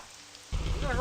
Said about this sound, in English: We're going to hurry a little bit because it's raining.